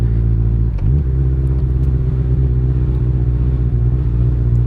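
A four-cylinder sports bike engine runs steadily at about 2,000 RPM in fourth gear at 20 mph while city cruising, a loud, close, even low drone with little change.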